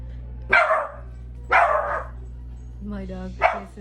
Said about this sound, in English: My dog listens to anything outside and he likes to bark.